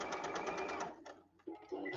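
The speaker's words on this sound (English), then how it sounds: "Back to my sewing machine." A sewing machine stitches a Y seam, its rapid steady needle chatter running for almost a second before stopping, then a few softer clicks and handling noises follow.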